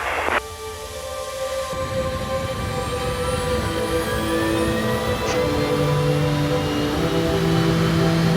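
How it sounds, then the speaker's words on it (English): Virgin Galactic aircraft taking off from runway 30 at Mojave, a steady loud engine roar with rising tonal whine building throughout, heard alone without voices. "Mojave Tower, 4-1's ready for takeoff, 30."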